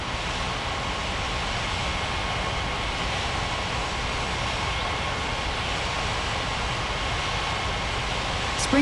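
Airliner taking off in an airport tower control video game: a steady, moderately quiet broadband jet roar holds evenly throughout with no voices.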